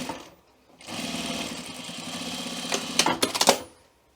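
A sewing machine stitches a welt pocket within the seam allowance, starting after a short pause and running steadily for about three seconds, with a few louder clicks and knocks near the end before it stops.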